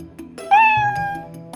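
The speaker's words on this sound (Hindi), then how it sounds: "बिल्ली जोर से म्याऊं म्याऊं करती है" A single loud, drawn-out cat meow rises and then fades, close by, with faint rustling and low background noise around it.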